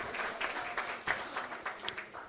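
A forum audience applauds in a steady, fairly quiet round of clapping with scattered sharper claps, lasting a couple of seconds.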